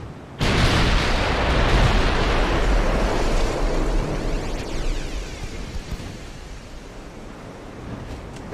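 Warship gun salvo in Ultimate Admiral: Dreadnoughts, set in 1890: a sudden loud boom followed by a long roaring, rushing rumble that slowly fades, heard alone.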